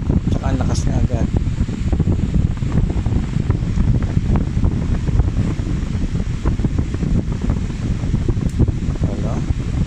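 A Vornado fan running at high speed gives off a loud, steady rush of air that roars without letup from start to finish, with voices speaking faintly over it.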